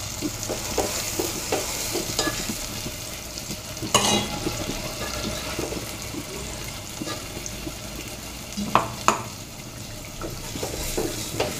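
Ground masala paste stirred and fried in oil in a pan, with a continuous soft sizzle, scraping strokes of a spoon and a few sharper clinks, alone without talk.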